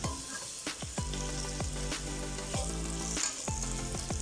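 Meat and okra (bamia) frying in a pot give a steady sizzle, with periodic clanks of a spoon stirring against the pot, close and fairly loud.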